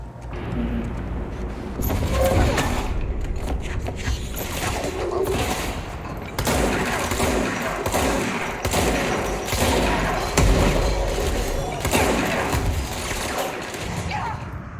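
Gunfire and heavy impacts in the video game Control, loud and continuous, with repeated bursts and thuds across the whole stretch, under game sounds.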